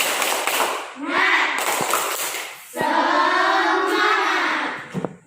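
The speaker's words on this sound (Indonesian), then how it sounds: "kalau tidak tahu kita tepuk semangat saja" A group of schoolchildren in a health-training class chant and clap together, with sharp claps breaking through their loud shouted voices.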